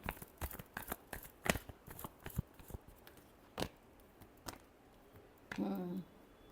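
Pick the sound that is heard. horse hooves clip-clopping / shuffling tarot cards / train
shuffling tarot cards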